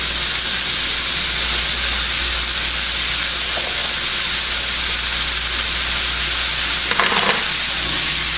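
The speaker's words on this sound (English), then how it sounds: "Add it in, this beautiful bucatini." Bucatini pasta is tossed and stirred in a hot pan with broccoli and vegetables, giving a steady close sizzle and frying hiss with soft scraping stirs, briefly louder near the end, no talking.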